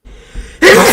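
A person sneezes once, a sudden loud burst after a short, breathy intake of air, close to the listener.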